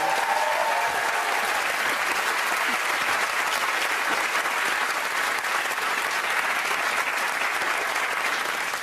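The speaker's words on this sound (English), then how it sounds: "Give him a round of applause." Sustained, dense applause from a television studio audience on a comedy panel game show, loud and steady throughout with no break.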